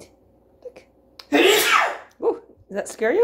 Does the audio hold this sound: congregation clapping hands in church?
no